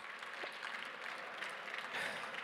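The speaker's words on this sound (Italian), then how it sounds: "Un applauso per Fish" Audience applause at an award ceremony on a main stage, after a hackathon prize is announced; steady, dense clapping at moderate distance, fairly soft and continuous throughout.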